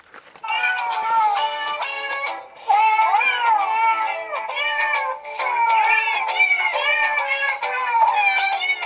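A toy birthday cake plays electronic cat meows, a steady run of bright, repeated mewing phrases, loud and close with no talking over them.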